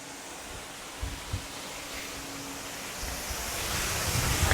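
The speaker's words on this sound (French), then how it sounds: "Donc là, il y a beaucoup de vent là aujourd'hui." Strong outdoor wind rushes and buffets steadily around a new ultralight Lanshan 2 tent, loud and continuous, with a few thumps of gusts hitting the microphone.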